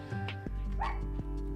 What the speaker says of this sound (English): Can you guys hear that dog barking?